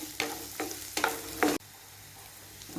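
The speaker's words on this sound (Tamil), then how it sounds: "இது கூட வெங்காயம் நல்லா ஃப்ரை ஆகி வரட்டும்." Onions frying with popped mustard seeds in a pan, a few scraping stir strokes over a steady close sizzle that stop partway, leaving a fainter background hiss.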